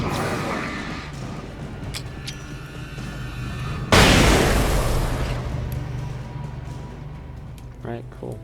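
A flashbang grenade in Alan Wake bursts with a sudden loud blast partway through, then a hissing ringing decay over several seconds, following quieter ambient game sounds.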